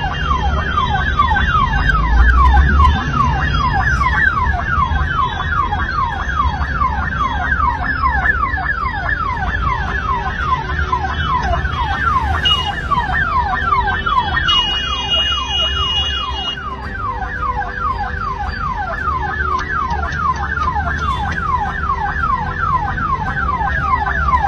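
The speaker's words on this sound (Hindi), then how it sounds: "भारी ट्रैफिक के बीच से निकल रहे एम्बुलेंस के लिए रास्ता खाली कराने के लिए जी बाबा जी नामक पुलिस अधिकारी" An ambulance siren wails continuously and loudly through heavy traffic in Hyderabad, its rapid rising-and-falling sweeps repeating without pause over a low road rumble.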